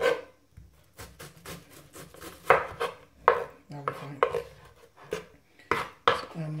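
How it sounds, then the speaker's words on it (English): A knife chops onions on a board in a home kitchen, making a run of crisp, close knocks at an uneven brisk rhythm, some louder strikes standing out. "Let's have a bit more, a few more onions. Okay, cut them."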